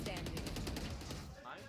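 Rapid gunfire from a tactical shooter video game, a burst of repeated shots close and loud, tapering off near the end, with players' voices mixed in.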